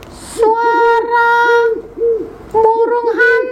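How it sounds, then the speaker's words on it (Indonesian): An owl hoots in soft, low, rounded calls repeated in two close groups of several notes each, with a short quiet gap between them. "burung hantu."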